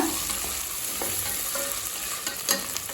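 Potatoes sautéing in a pan while preparing mint rice (pudina sadam), a steady soft sizzle with light stirring scrapes throughout and a brief clink near the end, close and continuous.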